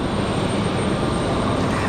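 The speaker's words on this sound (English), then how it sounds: "737 for Delta, off to Atlanta, Georgia" A Delta Boeing 737 airliner at Raleigh Durham airport gives a loud, steady, broadband roar of engine noise that fills the whole moment without a break.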